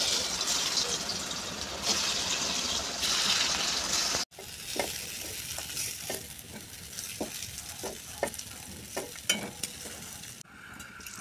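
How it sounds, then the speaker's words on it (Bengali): Pieces of dhoka, Bengali lentil cakes, fry in a pan of hot oil, with a continuous close sizzle, then a sharp drop-off and scattered crackles and pops as the pieces settle. "এবার ভেজে নেবো।"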